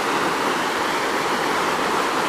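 Steady rushing of water moving through a small, dark waterway used for rafting and tubing, a continuous close wash of broadband flow with no voices.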